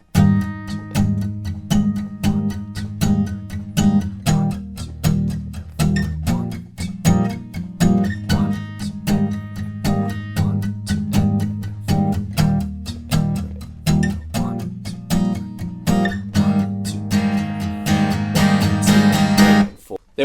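An acoustic guitar strums the pre-chorus chords, steady rhythmic strokes played close and loud, with no voice over them.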